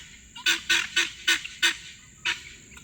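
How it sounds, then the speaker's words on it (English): Guinea fowl calling nearby: about seven loud, harsh honking cries in a fairly even, repeated rhythm, with a short pause before the last one or two. "these are the last guineas that I have"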